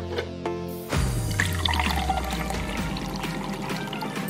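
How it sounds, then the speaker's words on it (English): Tea pours from a golden teapot into a glass in a close, continuous splashing stream that starts abruptly after a brief musical lead-in and runs steadily for several seconds. "I'll just give this a pour!"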